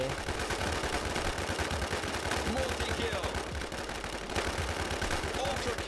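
Rapid automatic gunfire from the H1Z1 battle royale game rattles in dense continuous bursts, loud and close, with a brief lull before firing resumes; a voice talks faintly underneath.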